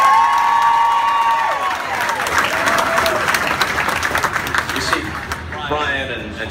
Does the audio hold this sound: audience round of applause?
yes